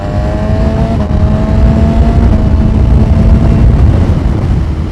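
A Ducati Panigale V4 superbike with an aftermarket exhaust pulls hard past cars on a street, its loud, steady engine roar rising in pitch as it accelerates, close and continuous with no talk.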